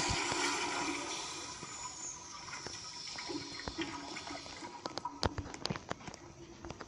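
Kohler toilet flushing in the Roblox video game, a rushing swirl of water that fades into trickling and refilling, with scattered clicks and taps toward the end.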